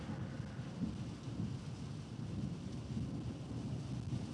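Rain falling steadily on a car windshield parked in a driveway, a dense continuous patter with low rumbling that suggests distant thunder, faint and even throughout.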